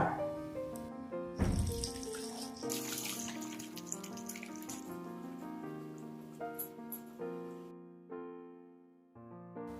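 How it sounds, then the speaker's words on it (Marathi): Cooked lentils are poured through a sieve into a bowl to strain them, a continuous close running and splashing of liquid that swells, then tapers off near the end. "एका बाऊलवर चाळण ठेवून डाळीला गाळून घ्या"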